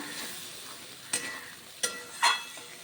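Cabbage and potatoes sautéing with spices in a pan: a faint steady sizzle broken by three light scraping stirs near the end.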